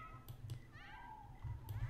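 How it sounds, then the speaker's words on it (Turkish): A cat meows in The Sims 4 Cats & Dogs video game, giving a few short, rising in-game cries over a low background hum. "Öyle mi miyavlama"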